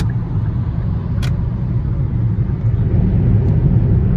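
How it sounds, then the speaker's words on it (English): Road traffic heard from inside a vehicle on a delivery drive, a steady loud low rumble of engines and tires with one brief sharp click, no talking. "Look at this traffic."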